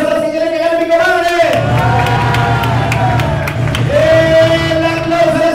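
A game show studio audience cheers and applauds for a swimsuit-round contestant, a loud crowd roar with whoops and clapping under a sustained tonal music bed.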